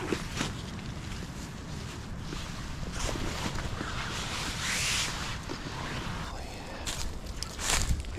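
Wind blows steadily across a lakeshore where ducks gather, a continuous rushing with gusts that swell and fade, and no one speaks.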